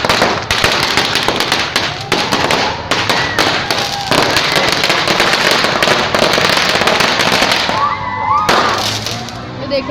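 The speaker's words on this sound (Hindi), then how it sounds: "देखें आप लोग, बम फट रहे हैं," Firecrackers bursting outdoors in a rapid, dense barrage of loud sharp cracks and pops, continuous for the whole stretch with a brief lull near the end, with faint voices in the background.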